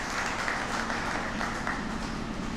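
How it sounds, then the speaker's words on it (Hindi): Applause from a crowd at a large national Hindi poetry gathering (kavi sammelan) in a memorial hall in Bhiwani, a steady wash of clapping heard from some distance throughout. "एक बार अपने सम्मान में तालियां बजा लीजिए"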